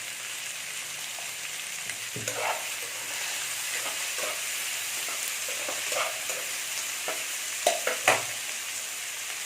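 Onion with a little salt sautéing in a pan for Mughlai chicken, a steady close sizzle broken by several scraping stirs and a few sharper spatula knocks near the end, without speech.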